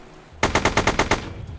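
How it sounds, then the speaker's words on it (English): A rapid burst of about seven machine-gun shots fires in a video game, loud and evenly spaced, then stops abruptly. Nothing else is heard. "let's go ahead and just shoot a few of these and see how it works."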